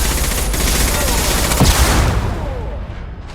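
Gunfire rattles through a firefight in Mass Effect 2, with dense automatic bursts and heavy impacts sustained loudly throughout, and a voice faintly underneath.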